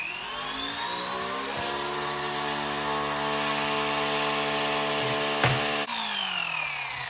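An RC UH-60L Black Hawk scale helicopter's electric motor whines up steadily after unlocking, a loud, close, rising tonal hum that holds and then shifts pitch near the end.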